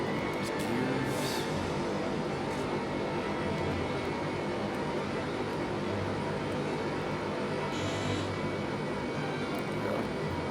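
Twin jet engines of an aircraft in Sky Odyssey give a steady, loud broadband roar that holds unbroken throughout, with faint high whooshes rising briefly near the start and again later.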